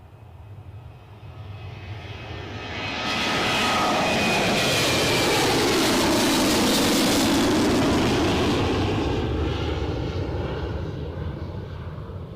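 A Jet2 jet plane departs down runway 25 at Newcastle airport, its engine roar swelling from a distant rumble into a loud, broad, sustained blast, then holding steady as it passes, with no talk.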